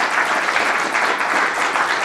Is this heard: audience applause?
yes